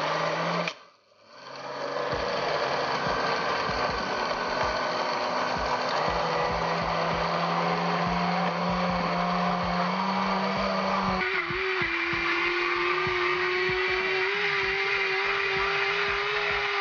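An electric blender whirs loudly and continuously while blending avocado flesh, sweetened condensed milk and sugar into a sauce, with a brief dip at the start and its motor pitch shifting partway through.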